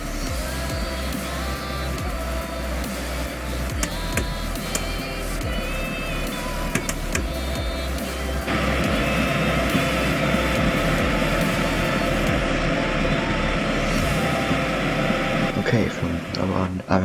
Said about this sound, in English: you can just look and hear the train accelerating